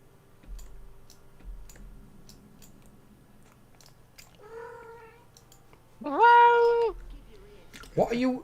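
A small cat meows a few times indoors, short cries that grow louder near the end, with faint clicking and chewing noises behind them and no one talking over it.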